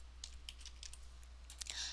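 Fingers tap out code on a computer keyboard in quick, irregular clicks and short bursts of keystrokes, close and fairly quiet against a low steady hum, with no talking.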